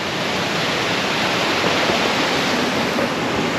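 Crystal River water rushes steadily near the Bogan Flats campground in Marble, Colorado, a dense continuous broadband roar with no breaks and no voices.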